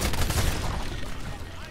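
Pistol gunfire in a Titanfall Attrition match on Xbox One, a dense, noisy burst of shots and game action running throughout at steady loudness, with voices mixed in.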